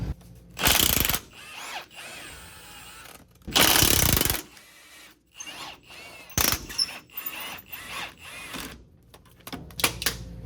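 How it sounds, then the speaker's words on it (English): Tools work on a truck's stock axle U-bolts, giving sharp bursts of impact-wrench rattle, ratcheting and metallic clanks separated by quieter handling noises nearby. "Now these U-bolts need to come out."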